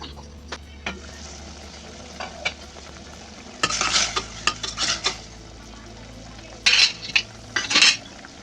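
Tomato pieces cook in a pot for Bhadrachalam charu, a South Indian lentil rasam, while a spoon stirs them in several bursts of scraping and clinking over a quiet background hiss. No one speaks.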